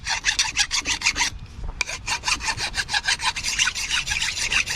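A Honda pressure washer's lower pump surface is roughed up ahead of a JB Weld repair: a quick, rhythmic series of close rasping scrape strokes, with a short pause partway through before the strokes resume.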